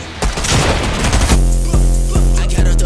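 A video game gunfight opens with a dense roar of rapid gunfire. Then come several loud, evenly spaced single shots, each ringing out near and sharp.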